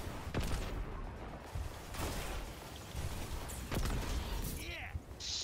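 Rocket explosions in an online shooter game, several loud booms and bursts spread through a busy mix with players talking over them.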